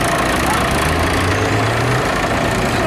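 A historic Ford-engined agricultural tractor runs steadily in an arena parade at an autumn show, its low engine drone loud and continuous under a broadband outdoor crowd wash.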